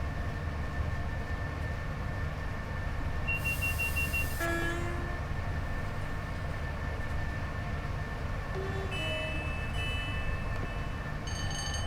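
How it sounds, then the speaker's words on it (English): Electronic beeping inside the cab of a BR Class 87 electric locomotive on a London to Crewe railtour in Train Sim World 6, short tonal beeps repeating over a constant rumble of the moving train. "I have no idea what that beeping sound was."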